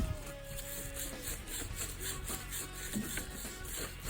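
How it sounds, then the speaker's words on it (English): Sandpaper scrubs a copper pipe clean before brazing, a steady close rasping friction with rhythmic strokes and no talk. "So, got some sandpaper right here. I'm gonna clean this off."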